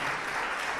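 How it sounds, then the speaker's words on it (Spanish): A brief, even burst of clapping from the women of a church congregation, dense and continuous across the whole moment. "Las mujeres aplauden, los hombres no."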